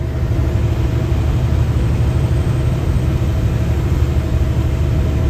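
A steady, loud drone of a Kenworth truck rolling along the highway out of Prince George toward the Pine Pass, its engine hum and road noise filling the cab continuously with no pauses.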